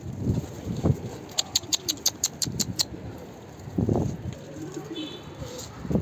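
Soft pigeon coos sound outdoors amid rustling and background noise, with a brief run of rhythmic clicking in between.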